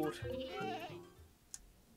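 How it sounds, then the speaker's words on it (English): A small goat in Minecraft bleats in a short wavering cry under a player's talking, then fades to quiet with a couple of faint game clicks. "Hi, little goat."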